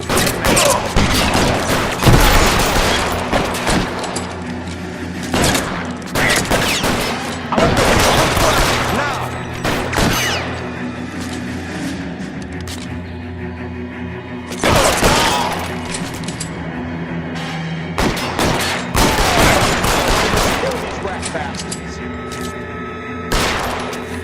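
Gunfire in L.A. Noire, loud rapid volleys and bursts of shots with booming impacts, recurring in clusters across a chaotic firefight, with voices talking in between.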